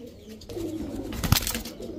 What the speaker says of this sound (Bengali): এখন দেখাবো একটা ছাড়াছাড়ি লাইনের দুধখাকি নর কবুতর